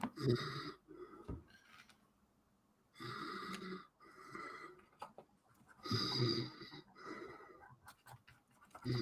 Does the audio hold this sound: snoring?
yes